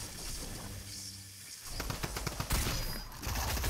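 Shotgun blasts in the Fortnite video game: a few sharp, loud shots crack over a busy bed of in-game noise, with a heavier cluster of hits toward the end.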